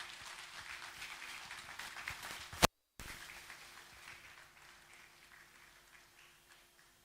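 Audience applause at a conference at a hotel in Koforidua, a steady patter of clapping from many hands filling the room, briefly cut to silence midway before the clapping resumes and slowly thins.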